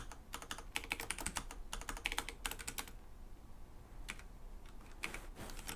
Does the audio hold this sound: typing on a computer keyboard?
yes